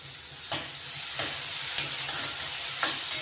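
Tomato and onion sauté in a pan for a soup, a steady bright sizzle broken by four evenly spaced spatula scrapes, close and clear with no talking.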